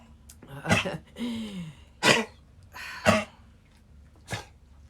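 A dog with a collapsed trachea gives several harsh, honking coughs in short bursts with pauses between, close by, along with a brief wheezing gasp.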